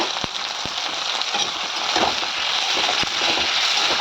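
Ground ginger, garlic, onion and green chili paste fries in a hot pan with a steady, soft sizzle and crackle, punctuated by a few sharp spits and pops.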